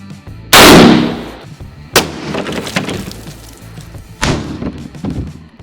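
WW2 rifle shot fired into cinder block walls at 30 yards: one loud sharp blast followed by two further crashing impacts and crumbling, breaking debris, no voices.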